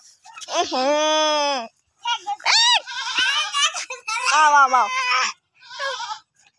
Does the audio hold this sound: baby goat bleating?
yes